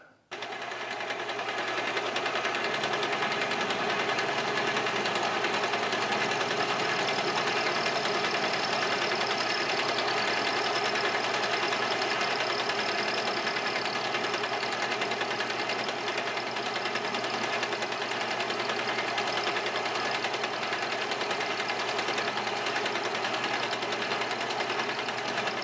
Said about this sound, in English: Let's try a 3/16 cut on this thing.